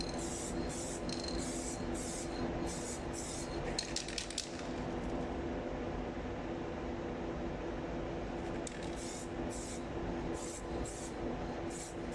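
Spray paint hissing from an aerosol can onto a car wheel rim, a steady continuous spray lasting about twelve seconds, with a few brief rattly bursts partway through and no voices.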